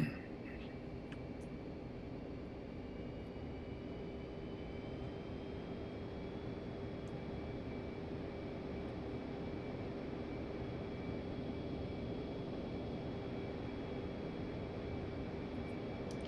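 In the DCS World flight game, twin F-15 jet engines roar with a steady, broad, whooshing whine carrying thin sustained tones, swelling slightly in pitch and strength as they rev up.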